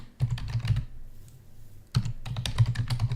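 Fingers type on a computer keyboard in two quick bursts of clicky keystrokes separated by a short pause, close and clear.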